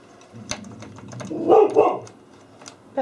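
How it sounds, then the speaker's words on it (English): A dog barks indoors in a couple of short, close barks with a louder burst midway, while faint tapping sounds continue in the background. "A dog barking."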